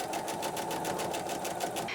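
A sewing machine runs steadily and close up, stitching a sashing strip onto a 1930s-style retro baby quilt block, its needle beating in a fast, even rhythm throughout.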